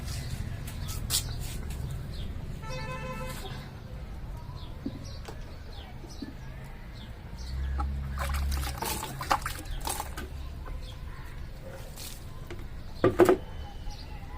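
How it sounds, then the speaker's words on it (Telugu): Intermittent bursts of water sprayed onto plants, spraying and trickling nearby, broken by pauses, with faint bird calls and small clicks in the background. "మనము ఇప్పుడు వాటర్ స్ప్రే కూడా చేసుకుందాము"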